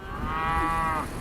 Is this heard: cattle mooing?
yes